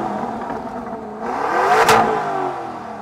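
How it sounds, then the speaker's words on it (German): A Lamborghini Urus Performante engine revs up close, swelling to a loud peak near the middle and then easing back into a steady roar. "Erster Soundcheck, Urus."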